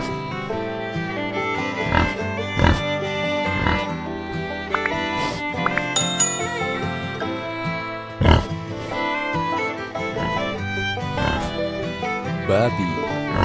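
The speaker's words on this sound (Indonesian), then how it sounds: "Babi," Pigs on a livestock farm grunting and oinking repeatedly over a dense, busy background, with bursts of louder squeals scattered throughout.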